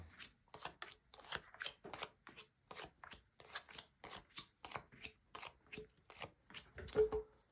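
Rapid bursts of tarot card riffling and shuffling, close and steady, repeating in quick rhythmic flurries with brief pauses between.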